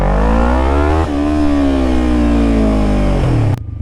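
A small motorcycle, under 600cc and bought for $1,800, roars steadily while being ridden, its engine pitch sagging and climbing again before it cuts off abruptly near the end.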